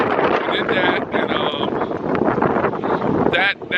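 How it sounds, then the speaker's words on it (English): Strong outdoor wind buffeting the microphone: a loud, continuous roaring rush with gusty surges, under bursts of talk. "It's very windy out here."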